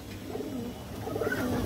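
A pigeon coos close by in a series of soft, low, throaty murmurs, with a few rising warbles over a steady background hum.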